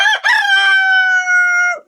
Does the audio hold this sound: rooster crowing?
yes